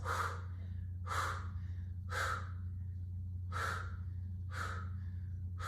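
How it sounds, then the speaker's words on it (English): Five forceful breathy exhales, roughly one per second, during a postpartum flat-abs floor workout, each a short airy puff over a steady low hum, close and moderately loud with no talking. "Finding some exhales, audible exhales."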